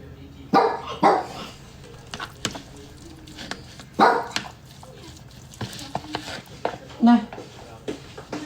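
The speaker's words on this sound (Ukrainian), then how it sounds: "Ну, гавкай скільки хочеш." A dog barks in short bursts, a few sharp woofs spaced over several seconds, close by, with someone talking in between.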